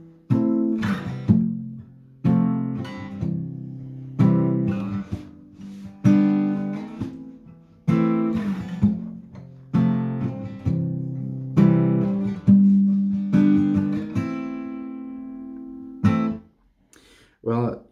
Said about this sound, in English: well, dynamic palm muted downstrokes,